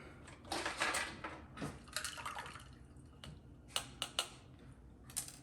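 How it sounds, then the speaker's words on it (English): Bar spoon stirring a Kentucky Mule with bourbon and slapped mint, giving a run of light clinks and taps against the glass with faint liquid sloshing, close and quiet, ending in a few sharp isolated ticks. "Give it a little stir."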